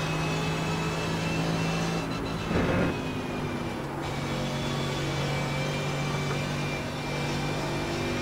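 A Mercedes AMG GT3 race car drones steadily at speed around the Spa circuit in iRacing, its engine a continuous tonal hum with a brief shift in pitch partway through, loud and unbroken, with no talking.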